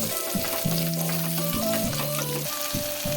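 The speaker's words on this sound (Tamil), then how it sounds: "நல்லெண்ணெய் சேர்த்துருக்கேன் இப்போ நம்ம எடுத்து வச்சுருக்கிற சுண்டைக்காயை சேர்த்துக்கலாம்" Turkey berries sautéing in sesame oil in a pan, a constant close sizzle with a few stirring scrapes and a faint hum underneath.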